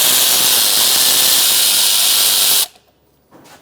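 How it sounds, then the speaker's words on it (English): Battery-operated ratchet loosening a 14mm bolt on a 2002-2006 Toyota Camry 2.4L alternator, giving a loud, continuous whirring buzz for about two and a half seconds that cuts off abruptly, then a brief faint rattle. "I'm going to swap out for a battery-operated ratchet."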